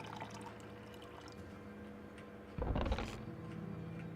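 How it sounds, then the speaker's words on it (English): Liquid is poured into a dragonhead statue in the RPG Maker horror game Akademia, a brief, faint splashing pour lasting under a second over a quiet ticking background. "Pour in some buttermine."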